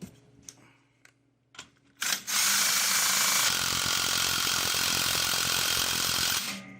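An impact wrench drives a puller on a snowmobile clutch, a few clicks and taps first, then a loud continuous buzzing rattle for about four seconds before cutting off, close by with no talking.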